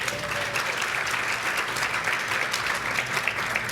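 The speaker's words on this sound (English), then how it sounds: "Let's give them a round of applause." Steady applause from a sizable audience at a Women's History Month tea talk, dense clapping sustained at an even level throughout.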